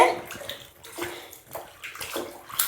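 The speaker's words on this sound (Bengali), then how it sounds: "প্রিন্সের একটু বেশি গরম লেগেছে, এর জন্য একা একা স্নান করতেছে" A young boy named Prince bathes by himself at midday, sloshing and splashing water in steady, irregular bursts close by.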